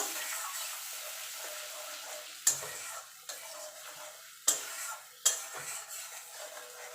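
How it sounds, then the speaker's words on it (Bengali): Ground spice paste sautéing in oil in a pan for a vegetarian doi potol curry, giving a steady hiss with several sharp clinks and scrapes of a spoon stirring against the pan. "দিয়ে মিনিট খানিক একটু কষিয়ে নেব"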